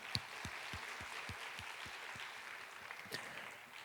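Church congregation at a Korean university worship service applauds, a light, even patter of many hands clapping, fairly quiet and steady, with a few lower thumps spaced regularly underneath.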